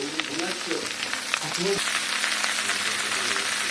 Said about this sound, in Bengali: আদা রসুন পাক হয়ে গেছে, এখানে ভেন্ডিগুলো দিয়ে দিচ্ছি।